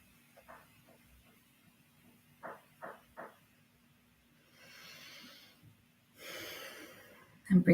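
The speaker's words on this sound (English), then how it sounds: "breathing in through the nose, out through the nose" Slow, soft nasal breathing during a guided meditation: a few short faint sniffs, then two longer airy inhales and exhales through the nose, close and quiet, ending with a brief louder rustle.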